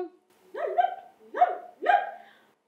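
A child imitates a dog barking with three loud, close, voiced yelps in quick succession, each a short rising-and-falling bark-like cry.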